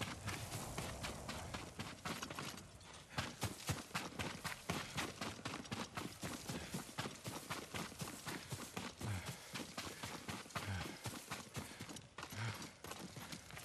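Horse hooves clip-clopping at a brisk run in the video game Ghost of Tsushima, a dense, fast, continuous patter of hoofbeats over a faint background bed.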